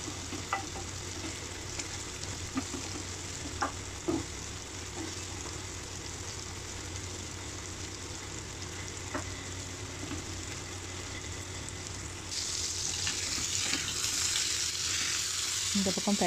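Prawns frying in a pan and being turned side to side, a steady close sizzle with occasional scrapes and taps of stirring, the hiss growing brighter and louder near the end; no voices.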